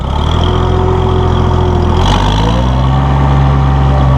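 A 1966 Oliver 1650 row crop tractor runs in third gear, its heavy diesel loud and close, droning steadily before the pitch drops and settles into a deeper, rougher rumble.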